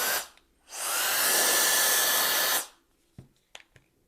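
A Nanoby X213 electric air duster blows a steady, loud rush of air for about two seconds, starting and stopping cleanly, followed by a few faint clicks and handling taps.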